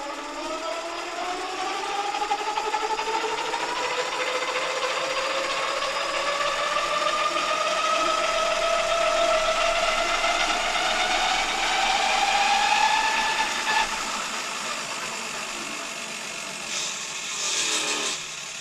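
A DIY e-bike's wheel spins under motor power for the first time, one side running off the first controller, giving a steady mechanical whine that climbs in pitch, holds, then eases off, alone without talk.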